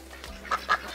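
Ducks on a bird farm give two short, close quacks over steady background hum, with no one talking.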